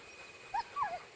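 Sled dogs waiting before a spring run in open valley country give two soft, brief whimpers, close by and fairly faint against a quiet outdoor background.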